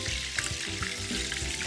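Eggs frying in a pan at a night-market-style cooking segment, a steady close sizzle and crackle with small popping bursts throughout, no talk over it.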